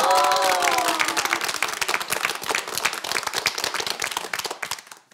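Senior audience at a lecture on the road to happiness breaks into loud, dense applause that starts strong and gradually thins and fades out, with a speaking voice briefly under the start.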